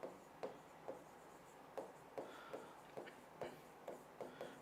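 Marker or chalk writing on a classroom board during a lesson, a quiet series of short rhythmic scratchy strokes with brief pauses between them, no voices.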